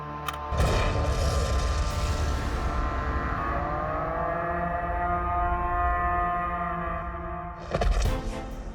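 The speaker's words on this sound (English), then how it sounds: "you'll see what kind of explosion we can expect from this" A large explosion set off by a demolitions crew on a Mythbusters test range, a loud boom that erupts and rolls into a long sustained rumble, with a second burst near the end.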